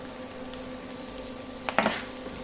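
Onions turning reddish fry in a pan with a steady, hissing sizzle, broken near the end by a couple of brief clinks of a utensil against the pan.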